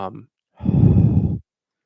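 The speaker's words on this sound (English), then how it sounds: "I can hear myself breathing in this mic" A heavy breath blown close into a microphone, a single loud, rough exhale of about a second that follows a brief vocal sound.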